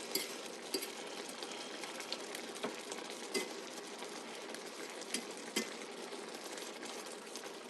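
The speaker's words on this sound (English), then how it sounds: "I'm just using the fork. So I'm just smashing them." Soft, quiet squishing and scraping of a fork mashing cooked pinto beans, with faint irregular taps against the dish.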